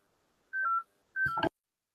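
Two short telephone dialing tones sound during a phone call, each a clean beep lasting about a quarter second, the second followed by a brief clunk, with silence around them.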